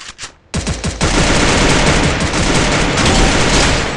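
Loud, rapid automatic gunfire rattles in a shooting video game fight, a few quick shots followed by a dense, continuous burst that fills the whole stretch.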